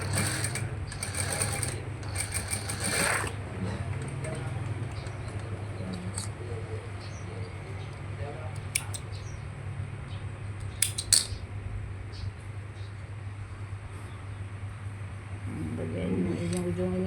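A sewing machine stitches the ends of a fabric sleeve cuff, a steady low mechanical whir with faint rapid clicking and a few sharper metallic clicks, close by and unbroken.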